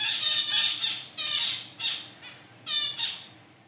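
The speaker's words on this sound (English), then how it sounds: "At the university's laboratory aviary, female zebra finches provide plenty of audio examples" Female zebra finches call in a laboratory aviary: four loud, close, nasal squawks come in an uneven rhythm, with short gaps between them and no talk.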